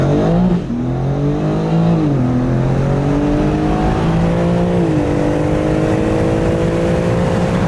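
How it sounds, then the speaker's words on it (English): A big V8 engine in a G80 BMW M3 revs loudly and steadily, its pitch climbing and dipping through a couple of throttle blips, close and continuous. "I want to hear the V8."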